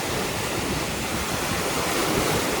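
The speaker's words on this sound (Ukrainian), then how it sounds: "Хвилі, як на морі." Stormy, wind-driven waves on the Kremenchuk reservoir of the Dnieper, churning as a continuous loud rush of surf and wind noise with no voices.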